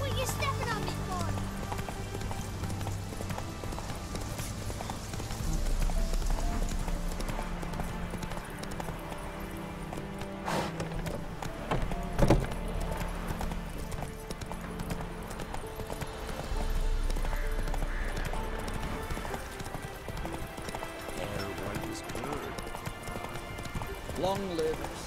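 Hooves of the horse Roach from The Witcher 3 clip-clop in a steady walking rhythm through the whole stretch, moderately close, with a voice talking over them and game music underneath.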